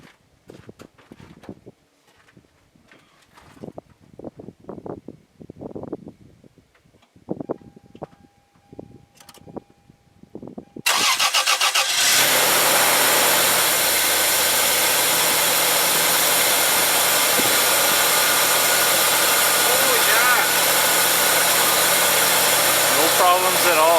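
A first-generation Toyota Tacoma truck engine cranks and catches about halfway through, after a quiet stretch with some soft speech, then settles into a loud, steady, continuous idle that holds to the end.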